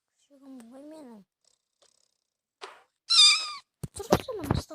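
A pet cat in a cartoon game meows in short rising and falling cries, with brief gaps of silence between them and a louder burst near the end.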